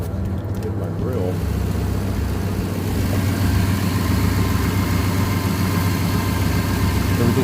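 Car engine idling steadily after a new A/C compressor install, a close, even low hum with a faint vibration, running continuously throughout after a brief quieter moment at the start.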